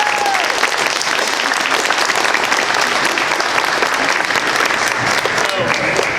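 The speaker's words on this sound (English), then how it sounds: "Please give them a round of applause." Loud, dense applause fills a junior high school band concert as the audience claps for the band council, a continuous roar of many hands with crowd noise underneath.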